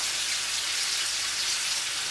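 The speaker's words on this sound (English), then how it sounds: "I put 12 sliced bacon on my pan. It's very hot, so the bacon can be very crispy" Twelve slices of bacon sizzle in a very hot pan, a steady dense crackle and hiss close by with no voices.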